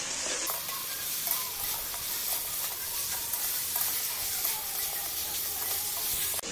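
A catla fish head sizzles loudly as it fries with spice paste in a pan, a continuous close hiss with the scrape of stirring throughout.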